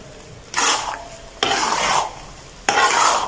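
Rice for mutanjan, a sweet rice dish, is mixed in a cooking pot with three long, loud scraping strokes of a spoon, each separated by brief pauses and carrying a light sizzle.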